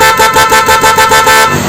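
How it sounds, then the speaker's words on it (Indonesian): A Victor snail horn fitted on a 2020 Yamaha Nmax honks loudly and close, a steady blaring tone pulsing in a quick series of short rhythmic blasts before cutting off. "karakter dari klakson The Victor ini dia ngeflank ya, atau dia kayak seperti klakson Hella ini bro"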